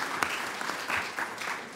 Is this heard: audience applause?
yes